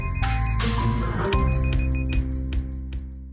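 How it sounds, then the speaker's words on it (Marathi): A mobile phone ringtone plays loudly and steadily, a repeating electronic melody of bright tones that goes on for several seconds, with no speech over it. "फोन आलाय का?"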